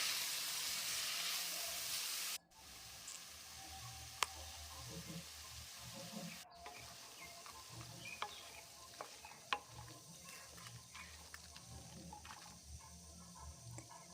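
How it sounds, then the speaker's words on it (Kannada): Carrots sizzling and frying in oil in a pan, a steady crackling hiss with occasional stirring clicks, louder for the first couple of seconds and then settling to a quieter, continuous fry. "ಎಲ್ಲವನ್ನು ಎಣ್ಣೆಯಲ್ಲೇ ಫ್ರೈ ಮಾಡ್ಕೋಬೇಕು."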